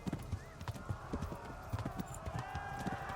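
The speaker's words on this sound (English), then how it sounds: "And our horse is slow as shit." Horse galloping in the video game Kingdom Come: Deliverance, quick rhythmic hoofbeats pounding steadily at moderate distance, with a faint whinny and low game ambience behind.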